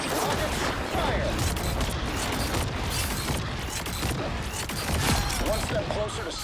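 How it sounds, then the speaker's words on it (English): Iron Man firing a volley of rockets in the video game Marvel Rivals, rapid crackling blasts and booms layered in bursts through the scene while players talk over the combat. "Rockets, fire!"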